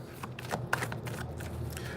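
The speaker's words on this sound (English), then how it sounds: "See how much faster the reading goes when I shuffle 3 cards per zodiac?" Tarot cards being shuffled by hand, a quick flurry of soft riffling and slapping card sounds close to the microphone, brief and continuous.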